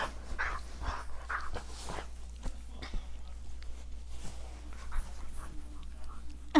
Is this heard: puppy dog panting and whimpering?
yes